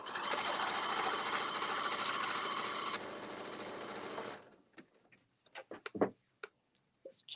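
A sewing machine stitches fabric with a steady, close whirring hum for several seconds, then stops, leaving scattered soft clicks and handling noises.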